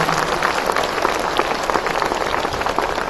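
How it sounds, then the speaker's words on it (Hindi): Audience at a national program launch event addressed by the President of India breaks into sustained applause, a dense, even patter of many hands clapping filling the hall for several seconds. "एक बार भरपूर तालियों से इसका अभिनंदन करें।"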